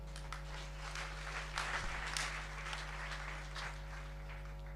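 Audience clapping for a group of young slam performers at a church stage event, steady applause filling the space for several seconds, with a constant electrical hum underneath.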